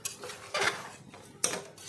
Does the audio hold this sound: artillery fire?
no